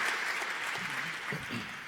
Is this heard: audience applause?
yes